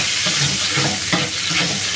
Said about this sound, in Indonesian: Kita goreng, aduk-aduk